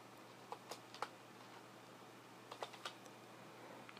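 Computer keyboard keys tapped to enter a password, a few soft scattered clicks in two short bursts over a quiet room hum, fairly faint and close.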